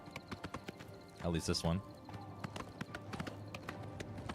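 Horse hooves clip-clop at a steady trot in the video game Oblivion Remastered, a continuous run of hoofbeats with a horse's whinny partway through, while someone talks over it.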